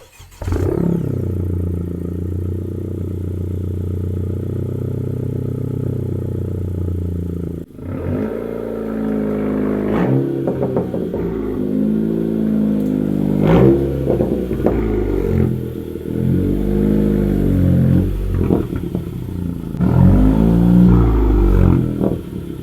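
A 10th-generation Honda Civic hatchback engine running steadily, then shifting at about eight seconds into uneven revving and clattering as the car moves and backs up, loud and close, with no talking.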